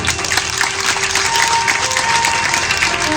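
A temple audience at a Shrimad Bhagavat Saptah gathering in Shingda, Porbandar claps steadily and densely for the whole stretch, a sustained wash of many hands with a faint murmur of the crowd beneath.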